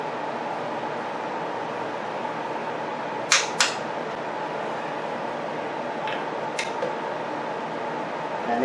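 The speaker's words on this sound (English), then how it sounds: "I'm going to torque these other three before I touch the cam nut fastener" A torque wrench tightens bolts on an Avid CNC 4848 Pro machine. Two pairs of sharp clicks sound close together over a steady background hum.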